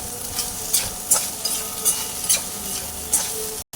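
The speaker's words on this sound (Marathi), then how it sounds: "भेंडी घालूया भेंडी भाजून घेऊया चांगली" Okra frying in hot oil in a pan, a continuous crackling sizzle with repeated scraping strokes of a spoon stirring at an even rhythm, close and moderately loud.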